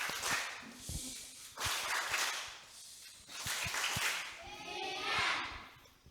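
Children at a Catholic church service clap a rhythmic chant in sharp, irregular claps, with chanting voices and bursts of breath between the claps.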